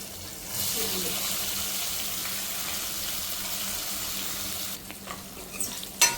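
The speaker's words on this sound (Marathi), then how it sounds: "आता आपण घालूयात कढीपत्ता." Curry leaves hit a hot pan and set off a loud, hissing sizzle that runs steadily for several seconds, then gives way to a few clinks and bumps.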